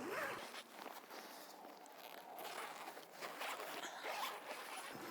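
A tent zipper is pulled open close by in a few quick rasping strokes, with quiet rustling between them.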